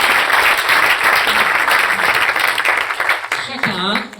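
An audience at the 2016 Prix de la vision stratégique awards event gives dense, sustained applause that fills the room. The clapping holds steady and loud, then thins near the end as a voice begins to come through.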